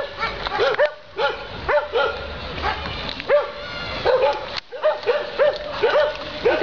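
Several dogs bark repeatedly in a park, a rapid overlapping chorus of yaps and barks at moderate distance that keeps going without pause.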